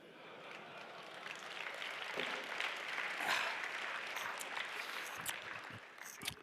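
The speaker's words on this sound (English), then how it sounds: "I've never been applauded to getting drunk." Applause from an audience in a conference hall swells into steady, dense clapping that holds for several seconds, heard from a distance and moderately quiet, with a few sharper claps and some faint voices near the end.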